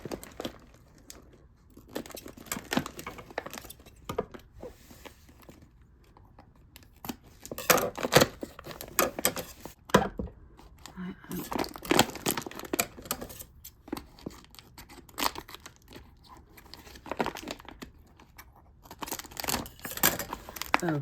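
A heavily taped package being cut with scissors and torn open, with bursts of snipping, ripping and crinkling that come in clusters separated by quieter pauses, close up.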